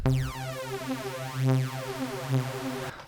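A detuned saw lead synth from Sylenth1 with eight voices plays a single sustained note, its bright, thick tone swelling and beating as the detuned voices drift against each other, then cutting off abruptly.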